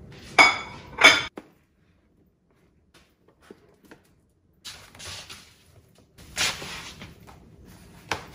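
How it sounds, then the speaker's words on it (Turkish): Dishes being washed by hand in a kitchen, with two sharp clinks of plates and cutlery near the start, then quieter handling and a couple of longer clattering, rinsing stretches, close by and without talking. "Ya, bulaşık yıkamaya hazırız."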